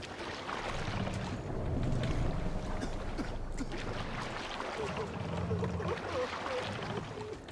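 A Viking longship crew rows in Assassin's Creed Valhalla, with a steady rumble of water and wind and rhythmic low swells of oar strokes beneath it, and voices calling over the top.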